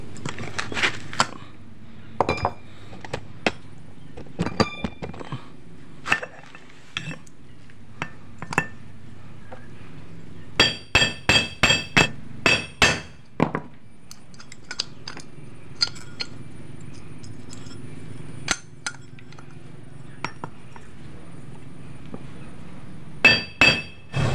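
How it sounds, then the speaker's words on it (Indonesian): A hammer strikes a cut bolt piece to flatten it during a Supra X 125 and Karisma double clutch bell repair: sharp metallic blows come in irregular bursts, some isolated and some in rapid clusters, with quiet pauses between. "Jadi untuk ratakannya jangan langsung pukul keras"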